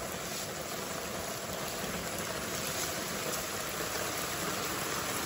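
Rainwater rushes fast along a street drain and roadway, a dense, continuous hiss and splash that stays close and loud throughout, with no voices.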